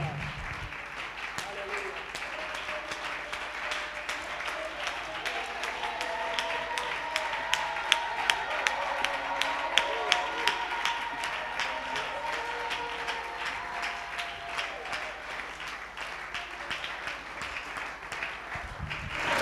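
A church congregation claps steadily in a large hall, sustained applause with scattered sharper claps, while a preacher's voice carries over the crowd.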